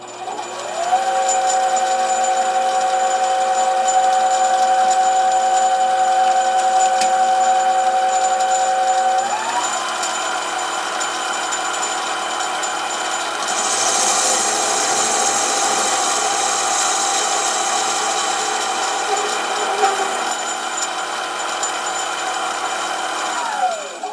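A mini lathe facing a small workpiece: steady machine whine with a sustained high tone that shifts pitch midway, continuous and fairly loud, with a brief scraping hiss as the cut proceeds.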